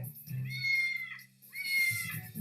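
A cat meows twice in a shelter adoption advert, two drawn-out, fairly loud close cries separated by a short pause.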